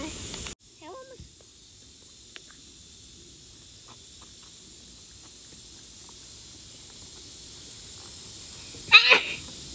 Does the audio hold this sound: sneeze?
yes